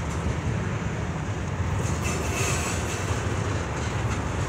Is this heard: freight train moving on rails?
yes